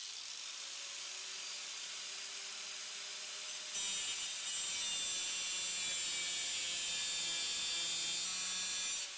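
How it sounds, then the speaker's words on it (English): Angle grinder cutting a rusted bolt on a Range Rover P38 bumper, a loud, sustained high-pitched grinding whine that intensifies midway and keeps running steadily to the end, with no voices. "I think I'll take the angle grinder and just cut it."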